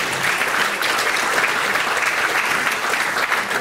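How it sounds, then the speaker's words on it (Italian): Dense, steady applause from a crowd for a concert band's musicians, clapping continuously at an even loudness throughout. "grande applauso per i nostri musicisti"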